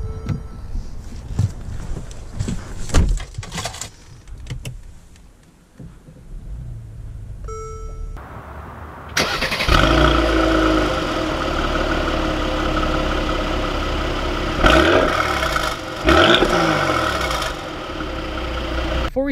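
A 2019 Mercedes-AMG GLE 43 Coupe, a V6 performance SUV, is first heard through faint clicks and cabin noises, then its engine catches and settles into a loud, steady rumble with a few revving swells as it drives off.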